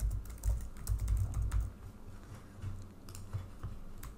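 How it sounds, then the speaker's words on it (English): Close, quiet keystrokes on a computer keyboard, a quick irregular patter of taps with brief pauses, alone without talk. "We can also type more text"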